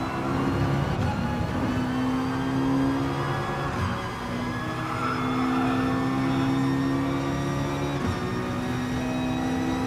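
Racing cars in GT Sport's Manufacturer Series run at full throttle, with a steady sustained engine drone and whine holding near and loud, pitch shifting slightly as the car changes gear.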